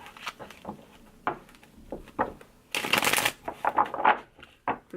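Tarot cards being shuffled by hand, a few soft riffling flutters and card taps early on, then a louder, denser burst of shuffling midway followed by quicker crisp riffles, close and fairly quiet, with no talking.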